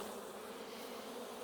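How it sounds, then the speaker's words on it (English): Honey bees buzz steadily in a hive during a November varroa mite check, a dense, even, faint hum with no break. "Oh yeah, I hear them. We definitely have bees."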